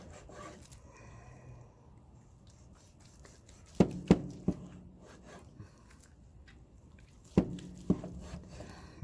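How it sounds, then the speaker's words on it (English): Knife slicing through tender smoked brisket across the grain, soft rasping strokes with a few sharp knocks of the blade meeting the board, close and quiet. "I'm just going to do a couple of slices just to see what it come out like"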